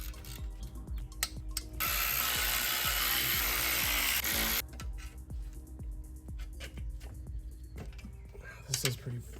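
An air impact wrench loosens the 6 mm Allen bolts on a BMW E46 clutch pressure plate in a garage: a loud, steady buzzing rattle for a couple of seconds, then quieter clicks and handling noises.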